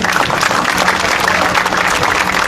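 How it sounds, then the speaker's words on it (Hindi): A crowd at a gathering over an attack on Hisar HAU students claps for the journalists present, a dense, steady roar of hands sustained throughout, loud and close, with no speech over it. "ये पत्रकारों के लिए ताली बजा दो एक बार"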